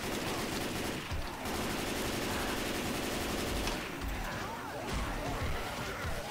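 Rapid gunfire from a co-op zombie video game is aimed at a Boomer. It rattles continuously and loudly throughout, with excited voices talking over it.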